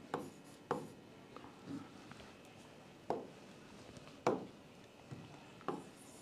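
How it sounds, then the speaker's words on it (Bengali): Chalk or marker strokes on a board during a chemistry lesson: short scratchy rubs spaced irregularly, a handful of distinct strokes with faint room noise between them and no talk. "তোমরা এই দুইটা আমি সবগুলো লিখে দিতেছি"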